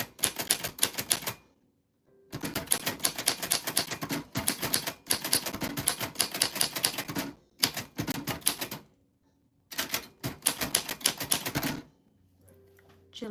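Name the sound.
typing on a vintage typewriter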